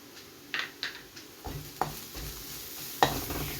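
Onions sautéing in a pan for mutton liver roast, a soft steady sizzle with occasional scraping and knocking of a stirring utensil against the pan, close and moderately quiet.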